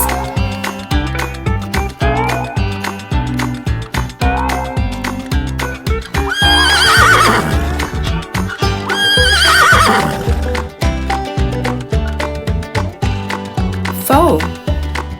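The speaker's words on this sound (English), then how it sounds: "Horse." Farm-animal toy sounds of a horse: rhythmic clip-clopping hooves throughout, broken by two loud, drawn-out whinnies in the middle and a short neigh near the end, all close and clear.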